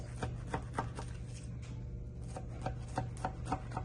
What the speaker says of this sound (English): So all I'm gonna do is just cut it into slices.